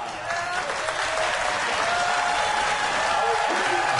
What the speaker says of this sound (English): Well, we can't have any applause.